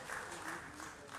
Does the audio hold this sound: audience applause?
yes